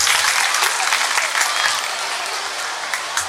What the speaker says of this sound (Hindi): इनको एक छोटा सा ये एक तो इस बच्चे के लिए तालियां होनी चाहिए